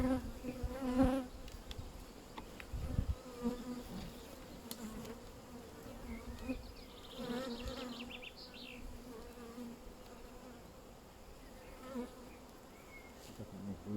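Honeybees buzz at an open hive, a low continuous droning hum with individual bees passing close now and then, fairly faint and steady throughout.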